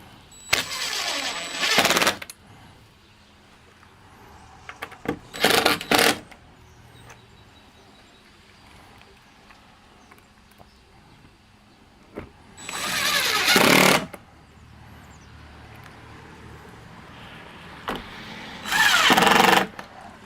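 A Shapeoko 5 Pro CNC machine cuts material with a countersink bit in four loud, harsh, roaring bursts separated by long quiet gaps. The machine is heard up close.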